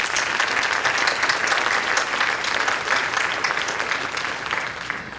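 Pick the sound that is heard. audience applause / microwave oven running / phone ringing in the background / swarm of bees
audience applause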